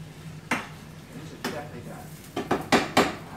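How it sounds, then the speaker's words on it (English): A spatula stirs meat sauce in a pan for baked ziti, knocking and scraping against the metal in a handful of close, distinct clanks that bunch together toward the end. "I'm gonna mix it up a little bit more and get some more sauce onto it."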